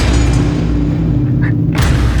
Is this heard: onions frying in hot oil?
no